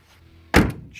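The passenger door of a 1970 Chevrolet Nova SS swings shut with a single solid, close thunk and a brief rattle after it. Before that there is only quiet, with no talk.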